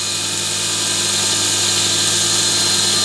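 A Pro Edge sharpening system runs while polishing a carving tool's bevel, a steady loud motor hum with a constant high whine, unbroken throughout.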